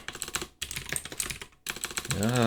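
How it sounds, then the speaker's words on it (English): Rapid typing on a computer keyboard during a coding session, a dense run of clicky keystrokes with two brief pauses, close and fairly loud. "typing."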